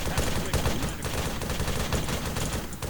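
Small-arms gunfire erupts in rapid, overlapping shots, a dense and sustained fusillade that stays loud and close throughout.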